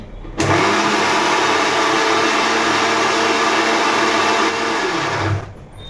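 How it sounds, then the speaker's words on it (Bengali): A kitchen mixer grinder whirs steadily at full speed for about five seconds, blending curd, mustard seeds, white mustard, poppy seeds and green chilli into a paste, starting and stopping abruptly and loud and close. "দই, সর্ষে, পোস্ত আর হচ্ছে সাদা সর্ষে, কাঁচা লঙ্কা সমস্ত পেস্ট করে দিচ্ছি মাকে"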